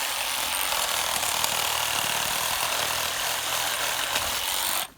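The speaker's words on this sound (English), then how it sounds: "we're going to take the Sawzall and just cut off the back" A Sawzall reciprocating saw rasps loudly and continuously through the back of a deer carcass, a close, harsh buzzing cut lasting several seconds before stopping abruptly.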